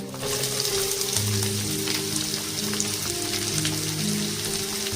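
Onion hits hot oil with cumin in a pan for dum aloo, and a dense, even sizzling hiss fills the whole stretch close and loud without pause.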